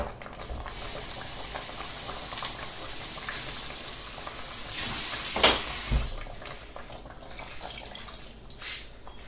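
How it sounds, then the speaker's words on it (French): Water poured into a simmering smoked chicken peanut sauce, a continuous close hiss and splash that runs steadily, swells briefly midway, then tapers into softer bubbling. "À présent, je vais rajouter de l'eau."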